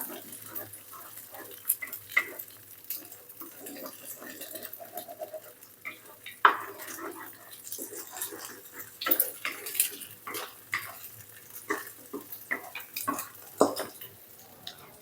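Eggs are stirred in a pan for a Thai glass noodle stir-fry, with a utensil scraping and clinking against the metal in irregular bursts, close by, while someone talks over it.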